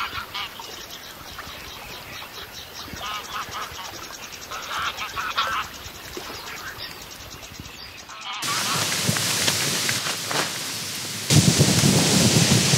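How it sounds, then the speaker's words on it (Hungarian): Rain falling outdoors with thunder rumbling, a dense steady hiss that swells into a louder wash near the end, with faint bird calls early on. "mert elerett az eső"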